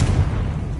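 The Confringo explosive spell from the video game Hogwarts Legacy, one loud, deep boom that rumbles briefly and fades, with no speech.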